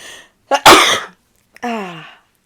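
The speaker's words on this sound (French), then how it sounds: "J'ai envie d'éternuer, attention." A person sneezes once: a brief inhaled lead-in followed by a sharp, loud burst, then a short voiced exhale.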